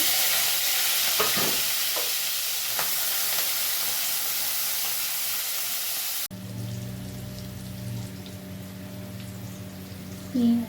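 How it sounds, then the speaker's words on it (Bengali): Prawns frying in mustard oil in a pan: steady, loud broadband sizzle with a few utensil scrapes, then a sudden shift to quieter hiss and low hum partway through. "আগে চিংড়ি মাছটা ভেজে নেব"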